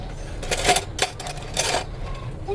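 A metal spoon clinks against dishware in a home kitchen, several bright, close taps in an irregular rhythm.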